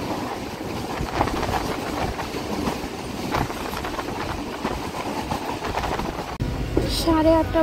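Train pulling into Ranaghat station, with a steady rumble and rattle of railcars throughout, people talking over it, and a few bright horn-like or brake tones near the end.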